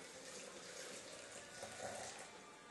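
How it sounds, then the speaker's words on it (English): Water pours steadily into a blender jar as a continuous, faint splashing trickle, heard alone at close range. "And I'll go ahead and pour that in to the blender."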